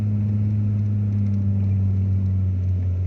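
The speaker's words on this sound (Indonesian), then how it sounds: "Bisa dilihat dari suara mesinnya juga, kalau ini cukup berat kita naik di sini." A car engine labours uphill on a narrow, winding mountain road, producing a continuous deep droning hum with steady low rumble and no break throughout.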